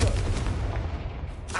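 Confringo fire spell blast in Hogwarts Legacy on PS5: a heavy, booming explosion with a dense low rumble that rolls on for over a second, then a second burst flares at the end.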